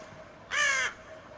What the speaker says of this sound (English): A bird cry breaks the silence. I guess there's a crow or something outside.